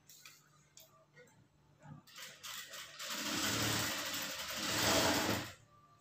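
A tailoring sewing machine stitches a line in cloth, first a few short ticks and clicks, then a sustained whirring run of about three seconds that stops abruptly.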